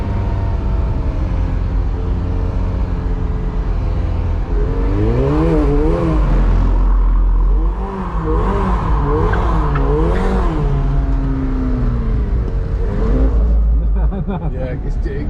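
A McLaren 720S drifting on track, its engine revving loud and close with rising and falling pitch sweeps as the tires squeal through slides, a continuous roar throughout.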